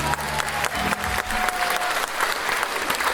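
Applause from a concert audience during a stage show, dense clapping from a large crowd that holds steady and fairly loud throughout, with a brief sustained tone running beneath it.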